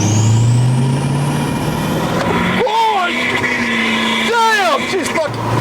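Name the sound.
725HP 6.7L Powerstroke diesel truck engine under full boost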